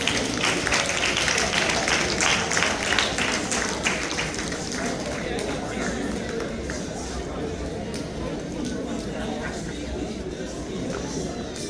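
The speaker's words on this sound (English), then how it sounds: "So let's give Creators Alliance a big round of applause." An audience applauds Creators Alliance at a gathering, with dense clapping strongest at the start, then thinning into a softer crowd wash with mixed voices underneath.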